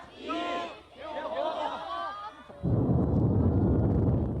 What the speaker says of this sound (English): cheering for the new mission.